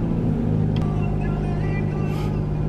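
Jeep Renegade driving at night from Seoul toward Namyangju, a steady close engine and road rumble inside the cabin with no break.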